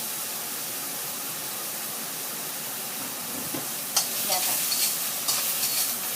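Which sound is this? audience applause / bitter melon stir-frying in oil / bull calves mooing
bitter melon stir-frying in oil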